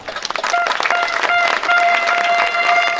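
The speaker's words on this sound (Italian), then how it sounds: "Quindi si merita un grande applauso." Applause from a crowd at an outdoor election rally, quick scattered claps building into a steady burst, with sustained tonal sounds running underneath.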